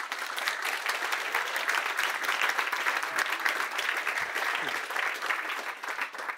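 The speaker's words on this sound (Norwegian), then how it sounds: "Så en applaus for han også." An auditorium audience at a student maths course applauds steadily, giving a dense, even patter of many hands that fades slightly near the end, with no talking.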